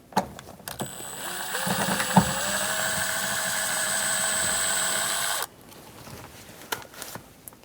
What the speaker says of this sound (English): Using a Phillips head screwdriver, we're going to remove the 3 screws for our sun visor.